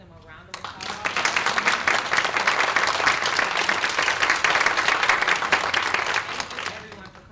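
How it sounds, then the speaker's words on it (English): An audience at a panel event applauds, with a dense burst of clapping from many hands that swells quickly, holds steady for several seconds, then tapers off. "please give them a round of applause."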